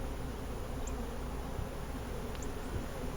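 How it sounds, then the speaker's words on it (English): Steady buzzing of many honey bees flying around an open hive in December, a dense continuous drone with a few individual bees passing close. "There's a lot of bees flying around, but they're not really stinging."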